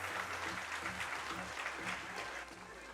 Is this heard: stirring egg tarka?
no